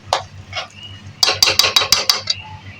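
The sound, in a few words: stirring cooked dalia khichdi in an opened pressure cooker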